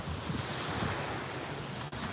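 Ocean surf rolls onto a beach on the exposed ocean side during beach dredging work, heard as a steady low wash mixed with wind buffeting the microphone, fairly faint and continuous.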